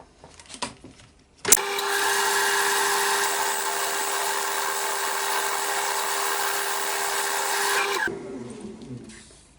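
A woodturning tool smooths a spinning sycamore bowl on a lathe, giving a steady, loud, sustained whir with a strong humming tone for about six seconds before stopping, with no talk.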